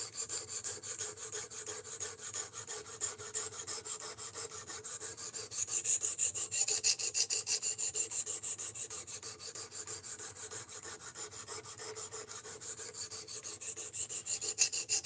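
A knife sharpening machine reprofiles a knife edge with a rapid, rhythmic scraping and grinding. The strokes repeat continuously at close range with no talk.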